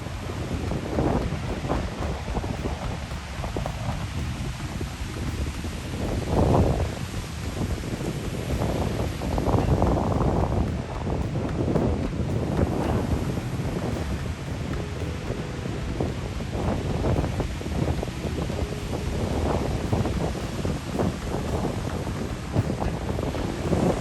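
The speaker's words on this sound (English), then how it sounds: "You can enjoy some of the sounds of the ocean coming up." Ocean surf and steady wind at Half Moon Bay State Beach, a continuous broadband roar with wind buffeting the microphone and swelling wave surges, no voices.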